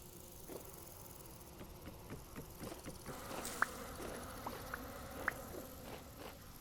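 Bees buzzing in the survival game Vintage Story: a steady low drone under ambient game noise, with soft repeated buzzy pulses and a couple of brief sharp clicks, at moderate volume and no talking.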